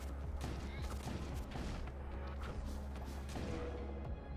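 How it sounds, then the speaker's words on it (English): Heavy in-game weapon fire from a two-shot volley of high-yield projectiles in a sci-fi war game, dense booming blasts and crashes filling the whole stretch with continuous loud rumble. "This is the 2-shot volley of high yield projectiles."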